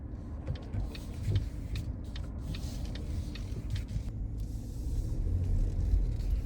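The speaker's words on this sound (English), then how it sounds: "I normally walk here, but today I was in a bit of a hurry, so driving seemed like the better option." Interior of a car being driven in the afternoon, with a steady low engine and road rumble throughout and light rattles and clicks from the cabin, rising slightly toward the end.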